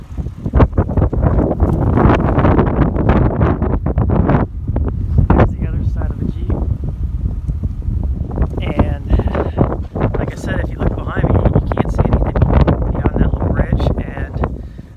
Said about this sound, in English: It's going to get windy when I walk around the other side.